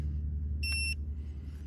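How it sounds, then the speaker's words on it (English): Arrma Fury 223s RC car giving a short electronic beep as it is switched on, a single clear tone over a steady low background rumble. "You can see these beep now when you turn them on."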